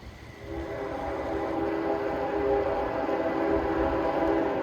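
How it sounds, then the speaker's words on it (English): A train rumbles past on the tracks close by, a loud, steady roar with a droning tonal whine running through it. "Obviously you can hear that. There's the train."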